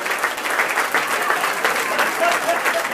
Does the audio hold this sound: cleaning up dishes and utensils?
no